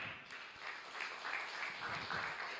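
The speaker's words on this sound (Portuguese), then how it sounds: "Dê um aplauso ao Senhor." Church congregation clapping for the Lord, a moderately faint, distant round of applause with some individual claps standing out and a few voices mixed in.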